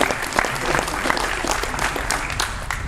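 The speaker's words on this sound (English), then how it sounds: "Round of applause for 2 groups of live" A short burst of audience applause at a talk, a loud round of scattered clapping with distinct individual claps and light crowd murmur underneath.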